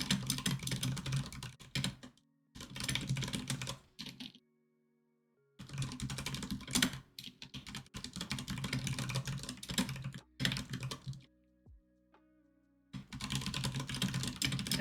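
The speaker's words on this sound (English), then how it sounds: "Aggressive typing." Fast, forceful typing on a computer keyboard, loud and close, coming in dense bursts of rapid clacking separated by short silent pauses.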